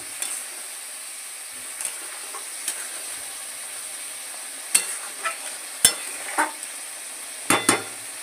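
Chutney bubbles and sizzles softly in a pan as a steady low hiss, broken by a few sharp clinks of a utensil stirring nearby, with no talk.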